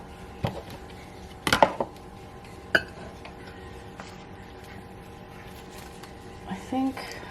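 Glass bowl clinking as coffee-soaked paper and grounds are transferred into it during paper dyeing, a few sharp chinks and knocks spaced out over quiet room noise, with a short rattle near the end.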